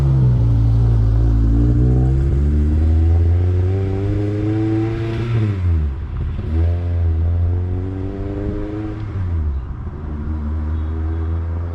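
A Honda CRX with a swapped K24A2 engine and a Magnaflow 12259 muffler pulls through the gears on the street, its exhaust note rising and dropping with each shift, steady and fairly subdued with no talking.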